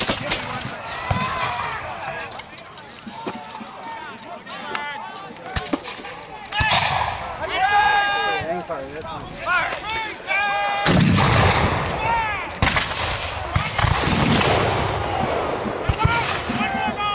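Musket volleys and scattered shots at an American Revolution battle reenactment in an open field, sharp loud cracks repeating over many seconds amid shouted commands and voices.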